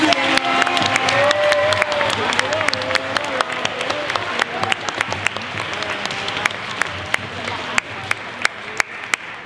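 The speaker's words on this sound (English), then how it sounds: "let's all give our contestants today a final round of applause for their great execution" Audience applauds contestants at the close of a school poetry recitation event: dense, steady clapping fills the room and slowly thins out, with a few louder individual claps standing out near the end.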